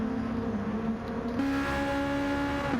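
Volkswagen Beetle race cars at Brands Hatch in Gran Turismo 7, a steady engine drone that rises in pitch partway through as the cars close in and pass, loud and continuous with no talk.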